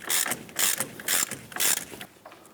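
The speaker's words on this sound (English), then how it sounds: "I'm going to go ahead and switch over to my ratchet." Ratchet turning a nut on a bolt at the front axle of a 2006–2010 Hummer H3, four quick clicking bursts in a steady rhythm, close and fairly quiet.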